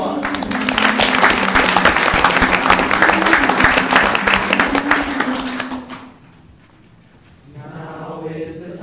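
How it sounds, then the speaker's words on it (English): A city council chamber audience applauds a high school theatre cast, loud close clapping for about six seconds that cuts off into quiet, after which a faint tonal sound begins. "Give them one more round of applause."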